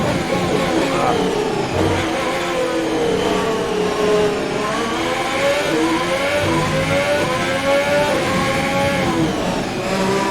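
A Formula 1 car engine in the F1 2020 video game on a flying lap at Zandvoort, screaming loud and continuous with rising and falling pitch through gear shifts, heard alone without talk.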